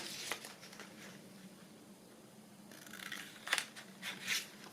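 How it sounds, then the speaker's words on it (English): Scissors cutting paper for a handmade sewing journal booklet, quiet close snips and crisp rustles spaced irregularly, a few sharper cuts near the end. "I'll use my other scissors."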